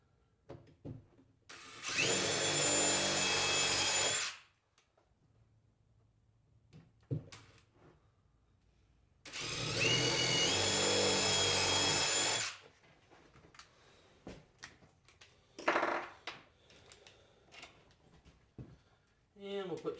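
A power drill drives screws into a plastic garbage can in two loud, sustained bursts of about three seconds each, separated by quiet handling noises, with a few short clicks and scrapes afterward.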